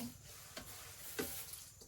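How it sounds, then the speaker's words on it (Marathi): Quiet scraping and light clinks of a spoon stirring thin flattened rice (poha) in a hot pan, with a faint sizzle underneath and no voices. "ढवळताना दोन चमचे घेऊन असे ते थोडे थोडे हलवून असे गरम करू"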